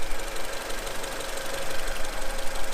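A Honda Accord CB7 engine idles steadily in its freshly cleaned engine bay, a continuous close mechanical hum with a light ticking knock and no voices.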